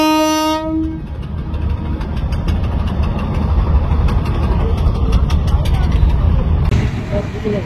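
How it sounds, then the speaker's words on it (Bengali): A passenger launch ferry arrives at Chandpur launch ghat on the river. A loud, long horn blast opens, then a heavy engine rumble runs steadily beneath a fast, regular mechanical clatter, close and dominant throughout. "আমাদের লঞ্চ চাঁদপুর লঞ্চ ঘাটে ফিরতেছে।"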